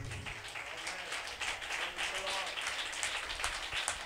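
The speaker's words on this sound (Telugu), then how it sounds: "గట్టిగా చప్పట్లు కొట్టి" A congregation claps loudly at an all-night prayer meeting, dense irregular applause that continues over the full stretch, mixed with a voice speaking over it.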